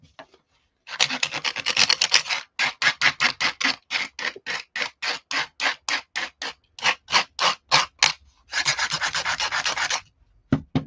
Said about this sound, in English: The second half of doing this is to take sandpaper to it, and it softens up really good.